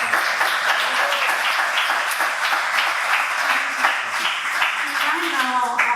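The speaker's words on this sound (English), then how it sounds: "Please give a round of applause to Alex." Audience applause for a speaker named Alex after a Q&A session at a network anniversary meet-up, a warm burst of clapping throughout with some voices audible underneath.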